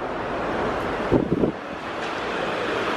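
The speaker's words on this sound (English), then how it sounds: "so you're next to the water, so there is a really nice breeze" Steady wind gusts roar past the microphone beside open water on a walk toward Windsor Castle, a continuous broadband rush with a brief low thump partway through.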